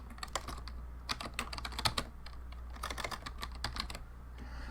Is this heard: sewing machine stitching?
no